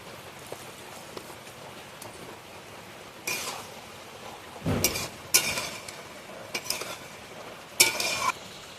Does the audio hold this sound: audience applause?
no